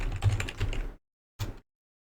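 A command being typed on a computer keyboard: a quick burst of close key clicks, a pause, then a short second flurry of presses.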